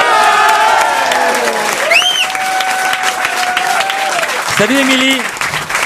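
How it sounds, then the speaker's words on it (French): Studio audience applause on a French radio prank call, a broad wash of clapping running under a voice greeting someone over the phone, with tonal jingle sounds rising partway through. "Tu entends des applaudissements, c'est normal"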